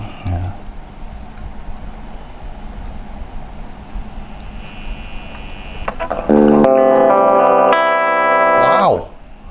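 Background hiss gives way to a loud, sustained clean electric guitar chord through a small 10-watt Kazuki amp with a replaced speaker, ringing for a couple of seconds before cutting off.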